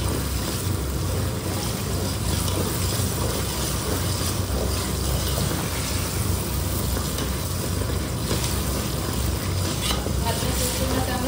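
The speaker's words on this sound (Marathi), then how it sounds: "फ्राय होऊ द्यायचं, कारण की त्याचा कच्चा वास जातो" Ginger garlic chili paste fries in a pan for a chicken dum biryani, giving a dense, continuous loud sizzle that stays even throughout, with faint background murmur.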